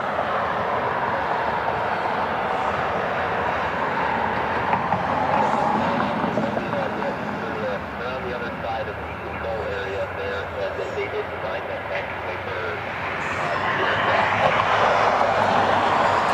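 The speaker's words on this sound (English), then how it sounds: "the Aer Lingus Neo that's taxiing over in front of the IX Center on their way to their gate" An Aer Lingus A320neo airliner taxis toward its gate at Cleveland Hopkins after a flight from Dublin. Its engines give a steady, broad rumble and whine throughout, swelling slightly near the end, with a person talking continuously over it.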